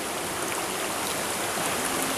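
A swollen river runs fast during the rainy season, a steady, dense rushing of water heard close and loud, with no break and no voices.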